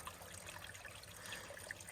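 A small trickling stream of water in the Arizona mountains runs steadily throughout, faint and continuous, with no voices over it.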